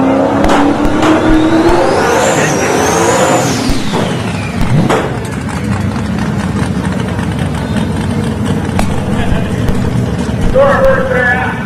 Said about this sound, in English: So our first pair out, Chevy versus Ford, Nova versus Mustang, Luis Martinez left-hand side